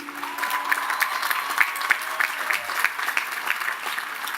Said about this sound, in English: A big round of applause for our class of 2018.